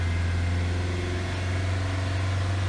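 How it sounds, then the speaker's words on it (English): Nissan Sentra engine with a stalling-at-idle fault, held running with the accelerator pressed to about 3,000 RPM, a steady loud close drone with a strong low hum. "I'm gonna try to put my foot on the accelerator to see if I can keep this thing running."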